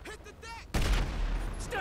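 Gunfire in the video game GTA 5, a sudden loud burst of shots with a heavy boom that follows a stretch of talk, then a rumbling tail.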